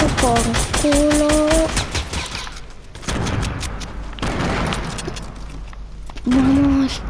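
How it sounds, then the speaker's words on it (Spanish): Rapid bursts of gunfire in a team skirmish video game, dense and loud, stacked shot on shot for several seconds. Voices and tonal game sounds cut through the firing in places. "A ver, ¿a quién verga le estoy disparando?"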